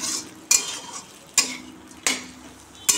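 Pointed gourd (kakrol) frying in oil in a pan, a steady soft sizzle broken by four sharp scrapes and clatters of a spatula stirring against the pan, close and clear with no talking.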